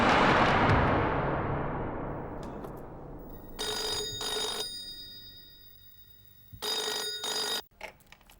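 A telephone rings indoors in two clear electronic bursts, each lasting about a second, separated by a pause, following a fading rumble; the rings are moderately loud and close.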